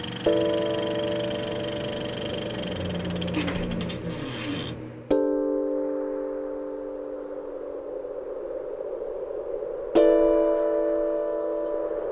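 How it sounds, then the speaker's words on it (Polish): A steady mechanical whir with a faint rhythmic ticking, like a film projector running, interrupted by two abrupt changes in pitch and tone. "ten dźwięk projektorów, ten szum projektorów"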